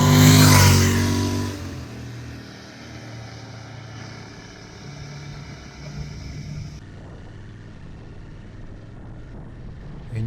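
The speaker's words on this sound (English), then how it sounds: "The engine whining sound and the exhaust note are honey to the ears." A Royal Enfield GT 650 twin revs loudly up close at first, then settles into a steady whining drone with a low exhaust burble, fading somewhat toward the end.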